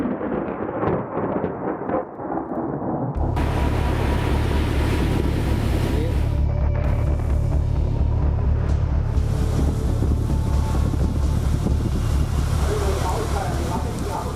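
Cyclone Tauktae drives stormy wind and high sea waves against the coast, a dense, continuous roar of gusting wind and crashing surf. The din runs loud and unbroken for the whole stretch after a brief, lighter opening.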